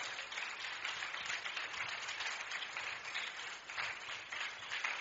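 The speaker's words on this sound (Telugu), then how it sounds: "గట్టిగా చప్పట్లు కొడుతూ దేవుని స్తుతించండి ఒకసారి." A church congregation claps loudly in praise during a Telugu sermon, a dense, continuous wash of many hands held steady for about five seconds without a break.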